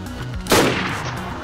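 A single loud gunshot rings out in the survival video game DayZ, its sharp crack followed by a brief rolling echo, with no talking.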